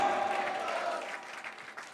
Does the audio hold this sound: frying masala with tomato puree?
no